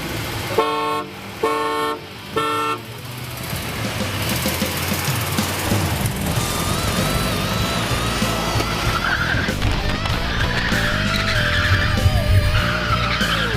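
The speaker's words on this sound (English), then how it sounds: "Are you gonna neutral slam it?" A race van launches off a neutral slam, its tires squealing loudly under a roaring engine, after three short horn toots at the start.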